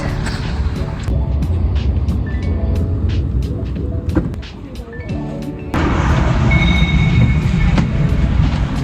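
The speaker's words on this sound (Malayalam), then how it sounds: "എലിസബത്ത് ലൈനാണ് നമുക്ക് എടുക്കുന്നത്" A London Elizabeth line train rumbles loudly and steadily with a deep roar, easing briefly midway before surging back with higher whining tones. Voices can be heard now and then under the noise.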